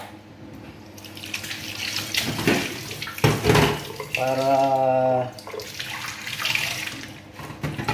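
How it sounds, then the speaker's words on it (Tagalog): Water pours from a tap into a cooking pan of pancit noodles, a rushing splash with a rising tone while someone speaks over it. "Lagyan ko po ng konting tubig"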